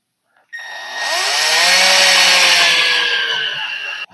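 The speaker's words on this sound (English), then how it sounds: "So I put one more screw in this. I think we're home free. Get the torque way down on this." A power drill set to low torque drives a screw into a door handle on an old 1940s bathroom door, producing one loud close whine that rises in pitch for about three and a half seconds and then cuts off.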